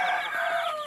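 A prize-winning rooster and hens cluck close by in a backyard chicken coop, making a short, bright burst of strained calling.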